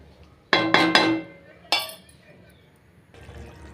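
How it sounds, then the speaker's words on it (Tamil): A plate clinks down onto a cooking pot of simmering kuzhambu in a kitchen: a few sharp ceramic-on-metal clatters, then a lighter clink, under a voice talking. "நல்லா மிக்ஸ் பண்ணிவிட்டு பிளேட் போட்டு மூடிடலாங்க"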